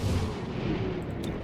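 Heavy gunfire in the squad-based tactical game XCOM Chimera Squad, a deep booming rumble of shots with a dull, low weight that carries steadily through the short stretch without any talking.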